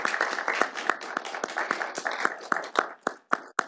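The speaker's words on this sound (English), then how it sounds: "Round of applause for Essex Porter." An audience applauds for Essex Porter, a crisp burst of hand claps that thins out toward the end into a few scattered, separate claps.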